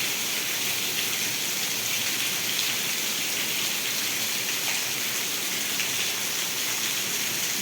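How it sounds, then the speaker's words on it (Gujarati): Heavy monsoon rain falling on rooftops and flooded terraces in the village of Vejalka, Ranpur, Botad district, Gujarat: a steady, dense hiss of downpour with no pauses, loud and uniform throughout. "ઘણો વરસાદ પડે છે અત્યારે તમે જોઈ શકો છો"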